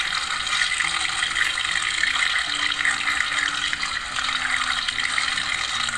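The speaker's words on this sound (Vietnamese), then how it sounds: "mình rửa là mình chà chà vậy với vòi nước" Tap water runs steadily while aloe vera leaves are rinsed and rubbed under the faucet, a continuous close splashing rush with no talking.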